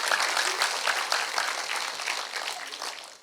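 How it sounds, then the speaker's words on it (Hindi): A live audience at a health talk by Dr. Jitendra Adhia claps steadily for several seconds, a dense, even patter of many hands with no voices over it. "इच्छा हुई तो ताली बजा लेना चाहिए"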